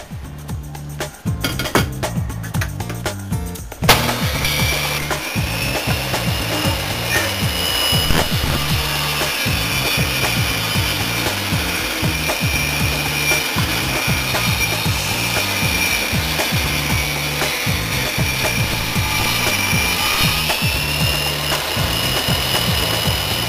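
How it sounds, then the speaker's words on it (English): A table saw cuts through wood from an old varnished dresser, a loud, continuous motor whine with rhythmic grinding and rasping as the blade bites, close up and without speech. "Alright, I've cut it on the table saw now."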